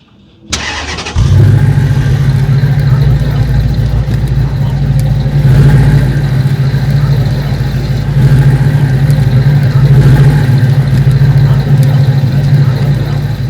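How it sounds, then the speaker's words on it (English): A 2009 Dodge Challenger R/T is push-button started, cranking briefly and catching into a steady, loud, deep idle that holds for the rest of the clip; people talk quietly over the running engine. "Just push it like this, and then push engine button will start."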